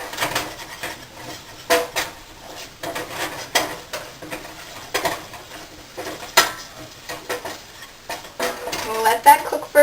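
Flour is stirred into a white sauce in a pan, with repeated scraping and clinking strokes of a utensil against the pan and a faint sizzle, heard under a person talking.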